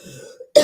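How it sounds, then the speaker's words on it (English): A single short cough from one person, close and fairly loud, bursting out after a brief pause. "hold on, coughing."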